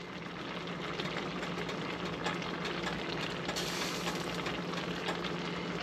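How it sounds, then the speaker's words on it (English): Paella with chorizo bubbling and sizzling in a wide pan as it comes to a boil, a steady dense crackle and hiss that holds at an even level throughout with no pauses. "But we're bringing it to a boil"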